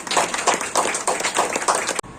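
Light, steady clapping from an audience at an educational society's felicitation ceremony for MP and HS 2025 students, a run of soft rhythmic claps that breaks off sharply near the end.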